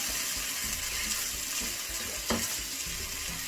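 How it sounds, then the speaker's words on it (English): Prawn noodles cook in a pan while being stirred, a soft continuous sizzle broken by scraping and clattering strokes and one sharper scrape near the end. "Let it cook for around 3 minutes. Keep stirring."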